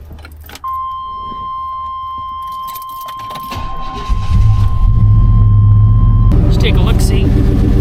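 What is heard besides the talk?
car engine started and idling after exhaust gasket replacement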